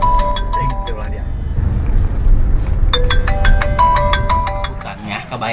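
Telephone ringtone chiming in quick repeated electronic bursts, pausing and then ringing again, loud and close, with people talking over it.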